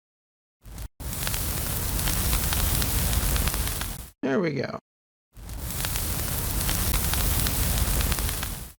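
Designed fire crackle sound effect layer for a dragon battle scene: dense, steady crackling noise in two long stretches separated by a brief gap, with a short burst of talk in between.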